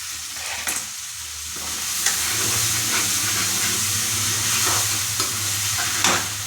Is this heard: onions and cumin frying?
yes